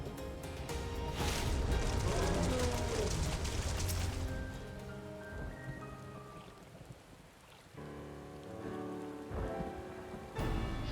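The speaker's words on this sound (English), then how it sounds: "All this rain." Steady rain pours over a Final Fantasy XIV scene at the edge of Loch Selg, a dense continuous hiss layered with game music and ambient tones, with brief shifts in texture near the end.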